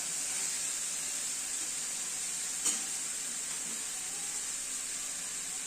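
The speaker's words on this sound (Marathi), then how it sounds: "हे छान असं आता मी परतून घेते" Vegetables and boiled potato sauté in a pan for a Marathi-style veg masala cheese toast sandwich filling, giving a steady, soft sizzle with one faint clink of a spatula partway through.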